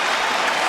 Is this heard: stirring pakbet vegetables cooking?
no